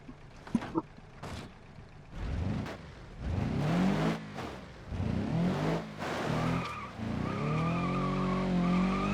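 Cars in the BeamNG.drive video game skid and crash on a wasteland track, with sharp impact bangs early on followed by loud, sustained tire squeal and engine roar that rises and falls close up.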